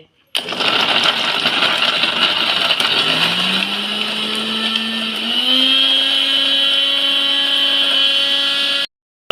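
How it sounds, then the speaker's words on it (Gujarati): A mixer grinder blends onion-tomato gravy for dhaba-style Punjabi paneer curry: a loud, close motor whine that starts abruptly, climbs in pitch as it speeds up, runs steadily, then cuts off. "મિક્સરમાં આપણે આને ગ્રેવી બનાવવા માટે મિક્સર શરૂ કરીએ"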